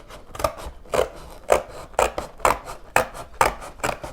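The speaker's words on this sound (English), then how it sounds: "And then we need to cut out our window." Scissors cutting a window out of household material for a kids' craft aquarium, with about nine crisp, regular snipping crunches, close and clear with nothing else heard.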